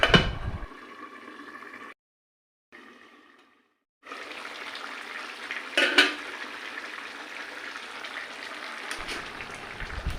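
Fish pieces dropped into a pan of simmering curry set off a steady sizzle and bubbling, briefly cut off and then resuming with a clatter of utensil against metal, with no voices.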